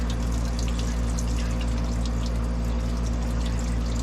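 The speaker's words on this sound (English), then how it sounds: "So let's see how fast the hot water starts." Hot water from a newly installed propane on-demand heater rushes steadily from the tap in a fishing camp, a constant splashing flow over a loud, continuous low machine hum.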